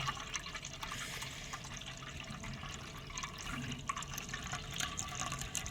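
Water is drained off soaked rice in a home kitchen, a soft continuous trickle and pour heard up close at low volume, steady throughout.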